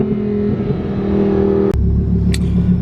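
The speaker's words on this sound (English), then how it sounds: "Oh, I love those downshifts." A Mercedes E63 engine is heard up close, a steady rumble that breaks off sharply partway through for a downshift, then comes back deeper and louder with a rev. There is no talking.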